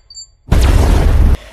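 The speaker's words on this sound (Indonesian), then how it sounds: "Del Riego sendiri tewas oleh bom otomatis saat dirinya akan mengambil senjata." A booby-trapped automatic bomb detonates in the Hitman: Agent 47 video game, a single loud, sudden blast that roars for under a second after near silence, then cuts off abruptly.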